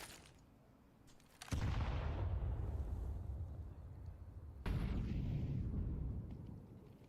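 Grenades going off in a Counter-Strike match at BLAST Bounty 2025, two loud booming blasts a few seconds apart, each trailing into a long rumbling roar.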